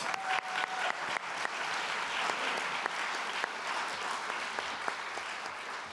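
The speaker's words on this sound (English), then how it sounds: "Let's give them a round of applause." An audience at an awards event applauds volunteers, a steady, even wash of many hands clapping in a room, held at a moderate level from start to finish with no voices over it.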